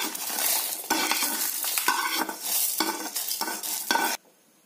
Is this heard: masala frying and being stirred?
yes